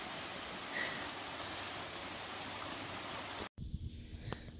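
Steady broadband rush of a small stream flowing beside a hiking trail in Hill Canyon near Camarillo, California, continuous and fairly close, cut off abruptly near the end and followed by a quieter outdoor scene with light handling sounds.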